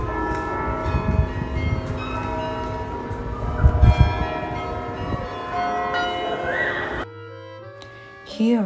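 Bells ring in the Belfry tower of Ghent, Belgium, with layered metallic tones sustaining and overlapping over several seconds, loud and close, before cutting to a quieter passage where a voice speaks.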